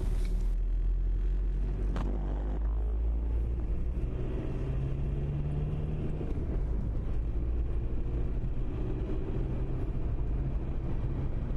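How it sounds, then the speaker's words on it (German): A 170-horsepower Ford Transit van hauls a caravan up narrow mountain pass roads, its engine a steady, loud, low droning rumble that strains continuously without a break. "Da zerren die 170 PS des Transit den Wohnwagen einfach über die Kuppen"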